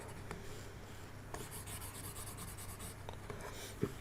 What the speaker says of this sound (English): Let me erase some of this stuff.